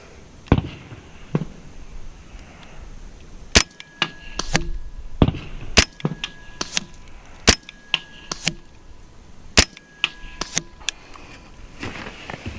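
A Hatsan Blitz .30 caliber semi-auto PCP air rifle fires outdoors on a long-range course, each shot a sharp crack. About a dozen crisp reports come at irregular intervals, some in quick pairs, with faint ambient noise between them.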